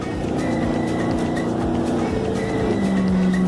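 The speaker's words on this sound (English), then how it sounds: "This car's trying to beat me." Car passing by on a road, a loud close engine drone under steady broadband noise, with a low tone settling near the end.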